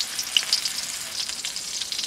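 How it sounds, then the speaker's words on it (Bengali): Pieces of pangas fish fry in hot oil with a continuous, close, bright sizzle and occasional sharp pops throughout. "গরম তেলে একে একে সব কটা মাছের পিস দিয়ে দিলাম"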